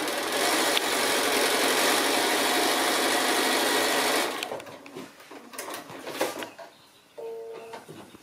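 A sewing machine stitches quilt fabric and batting with a loud, steady, rapid mechanical whirr for about four seconds, then stops, leaving quieter handling rustles and a brief soft tone near the end.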